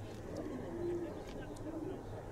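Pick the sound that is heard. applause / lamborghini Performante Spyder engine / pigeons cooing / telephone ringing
pigeons cooing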